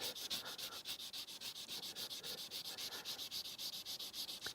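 A hand-held sanding stick is rubbed over metal in quick, even back-and-forth strokes, producing a close, rhythmic scratchy rasp that repeats about four times a second with no voices.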